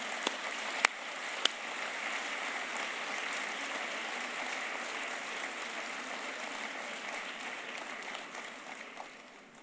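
Audience applause at a civic speech event in La Ciotat, a steady wash of many hands clapping that holds for the whole stretch and tapers slightly at the end, with a couple of sharp louder claps near the start.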